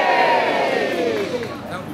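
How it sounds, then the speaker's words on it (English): Crowd of visitors at Warwick Castle lets out a loud, sustained welcoming cheer, a massed shout that holds steady and then tapers off over about two seconds. "I expect to hear a big loud cheer when I say"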